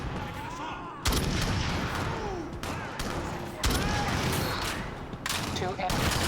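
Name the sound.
sniper rifle gunfire in Shadowrun video game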